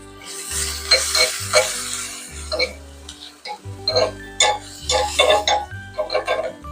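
Finely chopped small onions and fenugreek powder sauté in a pan for a dried prawn and raw banana curry, with a soft sizzle and repeated stirring scrapes, while a low hum pulses on and off underneath.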